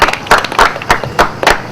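Applause for a professor at a panel discussion on religion and African development: loud, close rhythmic clapping in about six distinct bursts, sounding like a small group or a few nearby hands rather than a large crowd, with no speech.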